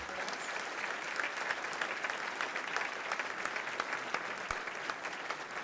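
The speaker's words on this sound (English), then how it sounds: "let's give State's Attorney Alvarez a good round of applause." A luncheon audience gives a steady, full round of applause, many hands clapping evenly at moderate loudness for the whole stretch with no talk over it.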